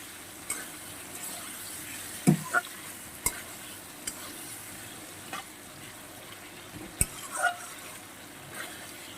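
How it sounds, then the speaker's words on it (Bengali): A low, steady sizzle of chopped shrimp frying over lowered heat, with occasional sharp knocks and scrapes of a spatula stirring the pan. "চিংড়ি মাছটা আমি ছোট ছোট করে কেটে রেখেছি ওটা দিয়ে দেব একসঙ্গে কষানো হয়ে যাবে ভাজাও হয়ে যাবে"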